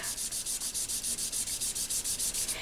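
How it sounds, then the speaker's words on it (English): A sponge dauber rubs Melon Mambo ink onto paper in quick, even back-and-forth strokes. The close, rhythmic scrubbing repeats about six times a second, with no talking. "I'm just going to rub that back and forth and color in the bottom of this word"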